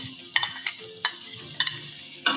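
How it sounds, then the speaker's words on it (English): Onions dropped into a hot, smoking pan give a steady sizzle, with several sharp crackles and pops standing out over it, close to the listener and with no talking. "You can hear it sizzle."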